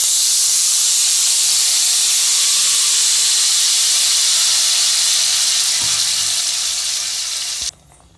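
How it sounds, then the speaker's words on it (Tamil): Ground tomato paste poured into hot oil with mustard seeds and curry leaves, making a loud, steady sizzle and steamy hiss throughout that cuts off abruptly near the end, with no talking. "இப்போ அரைச்சி வச்சிருக்க தக்காளி ஊற்றிக்கலாம்."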